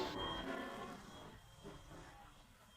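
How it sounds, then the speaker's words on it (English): Metro train ride in China, a steady rumble and hiss of the carriage in motion that gradually fades quieter, with no talk over it. "That was our short metro ride."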